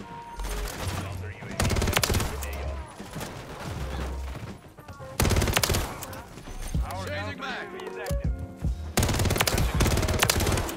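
Rapid automatic gunfire and bursts of shots from a Call of Duty: Modern Warfare 3 multiplayer match, loud and nearly continuous across the clip, mixed with game sounds and background music.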